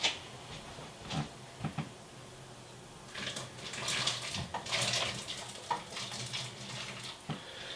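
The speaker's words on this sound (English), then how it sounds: "these have to go into the water and boil from 5 to 10 minutes" Potatoes drop into a pot of boiling water, giving soft splashes and bubbling with a few sharp knocks, fairly quiet and close, with no one talking.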